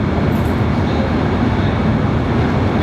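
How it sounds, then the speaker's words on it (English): Amtrak passenger train 64 with engine 111 on the Niagara Falls to Buffalo run, a loud steady rumble and roar of wheels on rail heard from on board, continuous and unbroken. "Amtrak train 64 with the engine 111"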